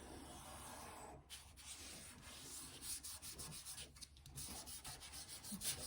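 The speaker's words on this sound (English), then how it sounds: "put it on top, and again, gently rub. Back and forth, up and down." Paper is rubbed by hand over an inked printing plate from a printmaking kit, making soft, continuous back-and-forth scratchy rubbing, quiet and close, with brief pauses.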